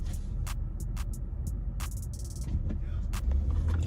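Low rumbling road noise and engine hum from a car being driven fast, steady throughout, with short sharp clicks and bursts scattered on top.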